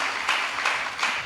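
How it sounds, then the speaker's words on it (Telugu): A church congregation claps together in praise of the Lord: a short, dense burst of applause with a few louder swells. "చప్పట్లు కొట్టి ప్రభువుని మహిమపరచండి."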